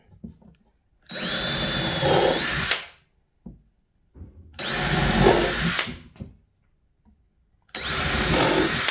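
Drill driving a countersink bit into wood to countersink screw holes: three close, loud bursts of whirring drilling, each about one to two seconds long, separated by short pauses and faint handling clicks.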